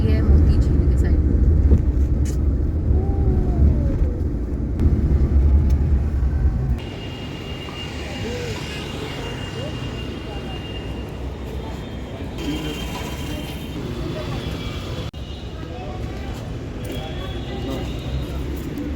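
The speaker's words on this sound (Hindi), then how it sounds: "गाड़ी हमारी मुड़ चुकी है मोती झील के साइड।" A car rumbles along a road in India while turning toward Moti Jheel, a heavy low engine and road drone that drops to a quieter steady hum about a third of the way through.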